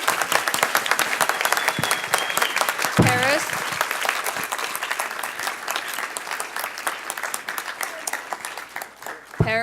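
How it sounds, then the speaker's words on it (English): Loud, sustained applause from a full room at the Kubernetes Contributor Summit, a continuous roar of many clapping hands with a brief voice calling out partway through. "All the people that participated to make this day possible should get a huge round of applause."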